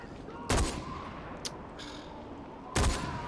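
Gunfire in Far Cry 4 cracks out in two sharp, loud bursts about two seconds apart, with a fainter shot between them, over a low hum of game ambience.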